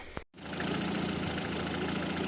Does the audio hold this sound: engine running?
yes